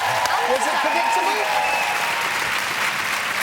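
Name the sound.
audience applauding Beth Tweddle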